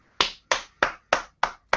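Six sharp hand claps ring out close by in an even, steady rhythm, each one crisp and separated by a short pause, with no talking.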